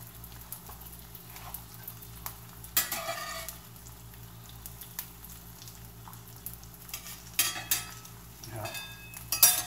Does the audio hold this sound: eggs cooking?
yes